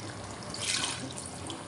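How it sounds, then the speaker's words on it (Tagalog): Water runs steadily into a cooking pot for chicken pulao, a soft, close trickling pour that swells briefly midway. "Lagyan na po natin ng tubig."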